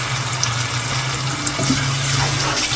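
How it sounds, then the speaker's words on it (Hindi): Water poured into a masala base while cooking mutton bhuna gosht, a steady running, splashing stream with a constant low hum underneath, continuous and fairly close, no talking. "हल्का हल्का सा पानी साथ डालते रहना है"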